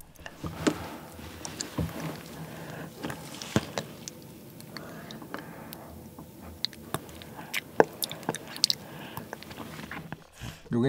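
Someone chews soft, creamy durian fruit close to the mic, with wet squishy mouth sounds and small clicks spread across the stretch and quiet talk at moments.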